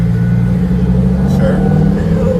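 A Lamborghini engine rumbles loudly at a car meet, a steady deep drone holding throughout with a slight swell near the middle, while people talk over it.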